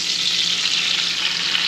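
A porterhouse steak sears in browning butter in a hot pan just after flipping, giving a loud, dense, continuous sizzle heard up close without pause.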